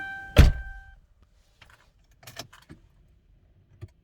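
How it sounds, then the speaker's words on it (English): A single solid thunk of a Lincoln Town Car door shutting, followed by a few faint clicks and small mechanical sounds, no talking. "maybe if I close the door"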